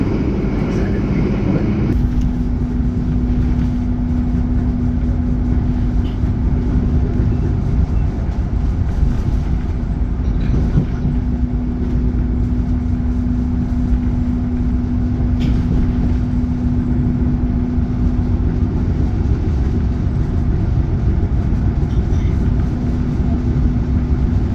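Steady low rumble inside the KA Sawunggalih passenger train as it slows toward a stop at Kebumen station, a constant droning hum with a faint tone, muffled and continuous throughout.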